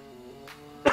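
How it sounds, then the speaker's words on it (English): A single sharp cough bursts out near the end of a quiet second, close to the microphone, after a faint throat sound and over a soft background hum from game music. "Sorry for the cough."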